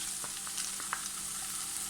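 Close, steady frying sizzle of tomato paste and chopped tomatoes, with occasional soft stirring scrapes and small pops, brief and moderately quiet.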